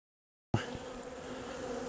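After a brief silence, a dense, steady buzzing of many honeybees in an opened winter hive starts abruptly and continues loud and close.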